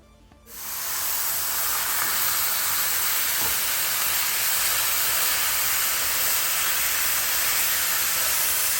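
Beef hits a hot pot of melted sugar browning for a Guinness stew, setting off a loud, steady sizzling hiss that starts about half a second in and holds without a break.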